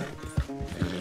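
A horse in the video game Red Dead Redemption 2 makes short hoof clops and breathy snorting sounds within about a second, close and moderately loud.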